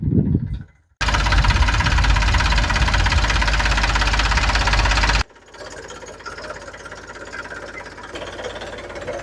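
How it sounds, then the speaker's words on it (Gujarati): A tractor engine pulls up on a farm where aloe vera is being worked, its loud chugging, knocking diesel note holding steady close by and then dropping to a lower, quieter idle. "આ જો ટ્રેક્ટર લઈને આવ્યું"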